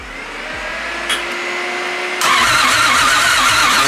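Built 1JZ engine swapped into a Nissan 350Z cranking on its starter, a close, loud whirring hum that steps up abruptly halfway into a harsher, fuller mechanical drone, with no talking.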